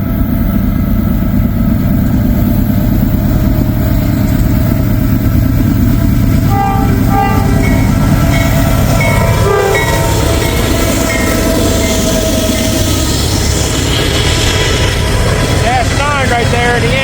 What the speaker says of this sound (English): It is Norfolk Southern. What has he got honking or blowing for?